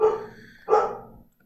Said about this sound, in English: Yes, that's my dog, and she wants attention.